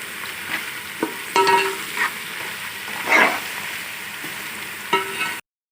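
Onions fry in oil with salt for beef pulao, a steady close sizzle punctuated by a few spatula clinks and scrapes against the pot, cutting off abruptly near the end.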